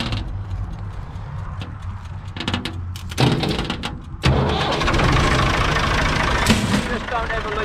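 Forklift engine cranking and catching, first with clicks and brief whirring, then firing up into a loud, steady close idle that runs to the end, in a blacksmith shop setting.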